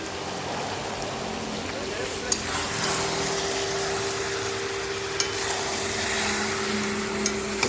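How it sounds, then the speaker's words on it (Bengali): Mutton frying slowly on low heat with spices for Bengali kosha, a steady close sizzle with faint stirring, broken by a few small clicks of a utensil against the pan. "ভালো করে কষিয়ে নেবো মাংসটা হালকা হালকা আঁচে।"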